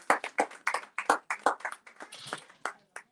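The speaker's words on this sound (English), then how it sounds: "So give yourselves a round of applause." An audience at a storytelling event claps: brief, fairly quiet applause with distinct, uneven individual claps from a small crowd.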